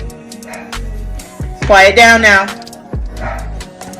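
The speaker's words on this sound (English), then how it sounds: "My dog is a barker." A household dog barks in a few sharp bursts, with the loudest bark in the middle, while someone speaks over it indoors.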